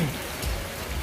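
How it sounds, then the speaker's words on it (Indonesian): Rain falls outside a house with a backyard gazebo, a steady close wash of broadband hiss with no voices, filling the whole moment. "ini di rumahku lagi hujan ya"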